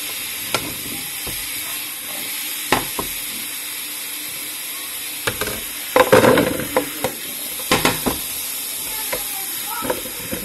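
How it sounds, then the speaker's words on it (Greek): Potatoes dropped into well-heated oil sizzle and crackle in a pan, with a steady hiss broken by louder spitting bursts and stirring clatter, strongest midway through, close and fairly loud. "Αφού έχει κάψει καλά το λάδι μου, πετάω μέσα τις πατάτες."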